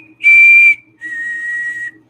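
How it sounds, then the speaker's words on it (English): Two clear whistled notes from the film A Quiet Place, the first higher and shorter, the second slightly lower and longer, loud and alone. "they have the little whistle noise"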